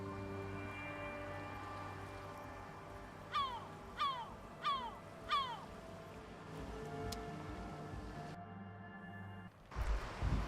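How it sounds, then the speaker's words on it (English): A seagull calling from overhead, four evenly spaced descending cries in a row, moderately loud over a steady ambient drone, followed by a burst of louder noise. "You see that seagull up there?"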